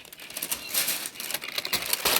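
Baking paper is pulled out of a Cosori air fryer basket and thrown away, making close, crisp crinkling and rustling bursts in quick, uneven succession with no speech.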